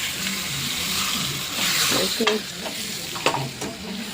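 A spoon scrapes and stirs a sizzling chicken biryani mixture in a pot, steady frying hiss with irregular clanks and scrapes, and a voice speaking faintly at times.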